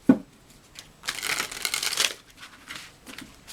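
A healing oracle card deck is shuffled close by: a soft tap, then a quick riffling flutter of cards lasting about a second, followed by faint rustles, with no talking.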